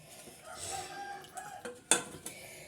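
A rooster crows, with chickens clucking faintly nearby. A sharp clatter of kitchen utensils breaks in briefly amid soft background noise.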